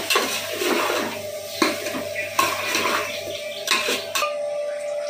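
Fried potatoes tip into a pot of mutton biryani, giving a few sharp clatters of a spoon against the pot and a soft stirring scrape over a faint background hum.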